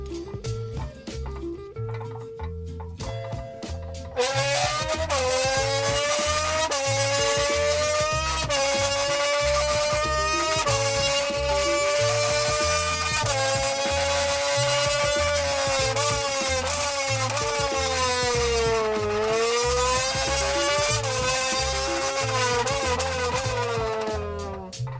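A man mimics a Formula 1 race car engine at full speed using a Monster energy drink can, producing a loud, continuous buzzing whine that rises and falls in pitch like gear shifts over a steady beat.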